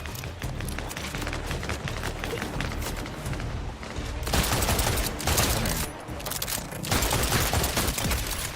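Dense, rapid gunfire in the video game Borderlands, loud sustained bursts of shots and impacts rattling on without pause, close and continuous with brief breaks between volleys.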